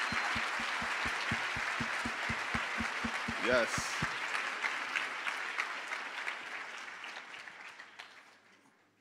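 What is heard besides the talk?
audience applause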